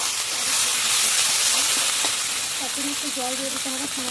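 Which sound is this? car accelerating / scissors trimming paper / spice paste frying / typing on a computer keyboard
spice paste frying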